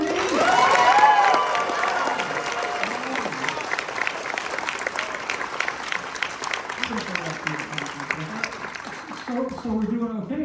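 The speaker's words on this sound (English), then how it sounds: "He needs you to give thunderous applause for X-Men and Uncanny X-Men." A convention crowd at New York Comic Con claps and cheers for Marvel's X-Men comics, loud sustained applause with whoops and shouts, voices rising over the clapping near the start and again toward the end.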